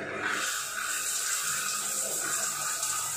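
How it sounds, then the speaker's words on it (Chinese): Water gushes steadily from a tap just connected to a newly installed instant water heater, a continuous close hiss and splash with no talk. "这里我们要开水，然后这里也是要开水"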